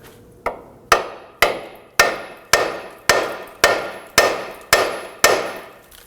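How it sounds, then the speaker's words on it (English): Hammer blows on the lower ball joint of a 2008-2011 Ford Focus, about ten loud, evenly spaced metallic strikes ringing out close by with no speech. "Now I'm going to use my hammer. I'm going to strike the ball joint and try and pop it up and in."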